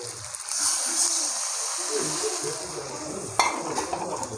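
Chicken and potato pieces sautéing in a pan for a Bengali kosha curry after a little water is added: a soft, steady sizzle and bubbling with a brief clatter of stirring partway through, fairly quiet, no voices.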